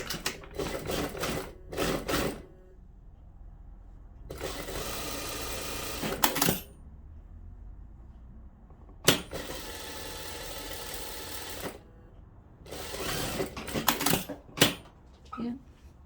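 A sewing machine stitches a ruffle on clothing in several separate bursts of rapid, even mechanical clatter. Each burst lasts a couple of seconds, with quiet gaps between them, and the machine sounds close by.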